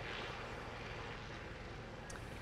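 A small yellow propeller plane lands, with a loud, steady engine drone and airy rush that fills the moment without a break.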